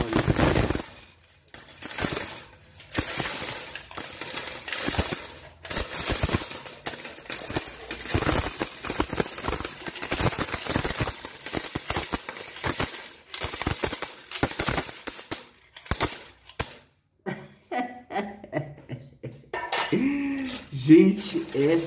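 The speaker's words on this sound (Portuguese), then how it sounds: "Veja que chuva de moedas" A large pile of coins pours down in a long, continuous metallic clatter and jingle of dense overlapping clinks, loud and close, thinning into scattered clinks near the end.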